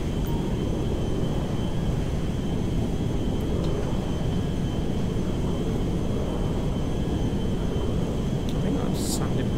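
A fixed-wing airplane taking off from a runway in GTA 5, heard as a steady, loud broadband engine roar that holds unchanged throughout with no breaks.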